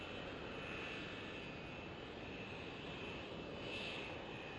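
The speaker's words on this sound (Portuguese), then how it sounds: "Também transporta carga a bordo de aviões como o russo Antonov" A Russian Antonov AN-124 cargo aircraft flies overhead, its engines a loud, steady roar that holds unbroken from start to finish with no voices.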